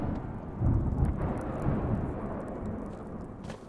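Low, continuous rumbling of a thunderstorm in the video game Smalland, a steady broadband roar with a swell just after the start and faint rain-like hiss, sustained throughout with no talking.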